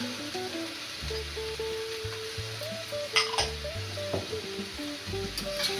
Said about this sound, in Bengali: চালগুলো একটু ভেজে নেব